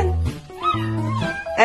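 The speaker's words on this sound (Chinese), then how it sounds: "好可怜的小猫咪" A kitten meows close to the microphone in several rising, wavering calls, loud and plaintive, with no talking over it.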